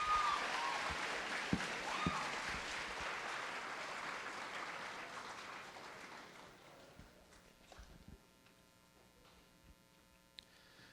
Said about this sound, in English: One more round of applause for these two ladies.